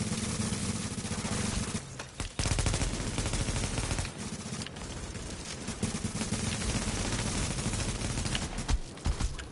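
Sustained automatic gunfire in The Division on PS4 Pro roars loud and dense throughout, a near-continuous rattle of shots with only brief gaps.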